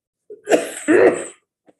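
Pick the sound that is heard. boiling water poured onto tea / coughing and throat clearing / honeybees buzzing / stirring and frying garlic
coughing and throat clearing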